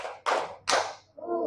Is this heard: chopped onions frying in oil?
no